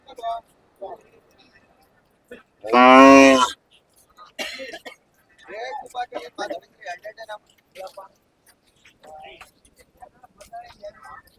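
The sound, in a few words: Hallikar cattle lowing at a cattle market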